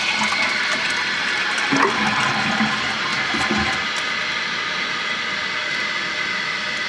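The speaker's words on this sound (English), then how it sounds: "And we'll try the flush action." A household toilet flushes right after its flapper valve is replaced, a steady loud rush and gurgle of water draining and refilling the tank, close up and continuous throughout.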